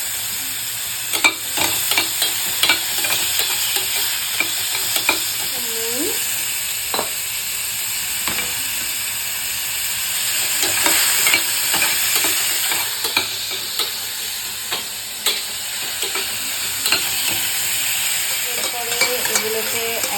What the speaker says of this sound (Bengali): চিকেনটাকে কেটে ছোটো ছোটো করে এটাকে আমরা তেলে ফ্রাই করছি